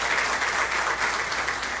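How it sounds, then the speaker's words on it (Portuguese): A crowd at a Parlasul public hearing in Foz do Iguaçu applauds a speaker's elderly mother, a steady, dense wash of clapping from many hands that stays even throughout the short burst. "queria um aplauso para ela"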